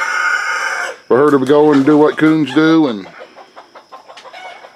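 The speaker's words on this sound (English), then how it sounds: "what in the heck is going on up there with the chickens?" Hens cluck and a rooster crows loudly in a backyard coop on a rural homeplace, a sharp burst of raucous calls lasting about two seconds, with someone talking before and after.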